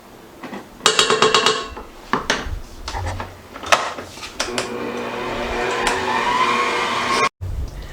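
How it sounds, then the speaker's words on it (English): Electric mixer blending pumpkin cheesecake filling in a bowl, with clattering knocks and scraping at first, then a steady whirring motor hum that cuts off abruptly near the end. "While your mixture is mixing, make sure you keep scraping down the sides and the bottom"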